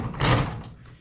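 A soft-close drawer on a Craftsman S2000 26-inch tool chest glides shut in one smooth, fairly loud sliding whoosh that fades out without a bang.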